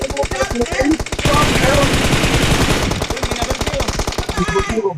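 Rapid automatic gunfire from the shooter game PUBG Mobile, with dense bursts of loud repeated shots and a sustained heavy volley in the middle, while players talk excitedly over it.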